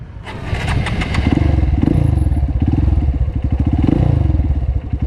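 A motorcycle engine revs hard in repeated surges close by, with a lumpy, pulsing exhaust note and some clatter, as the bike is lifted into a wheelie.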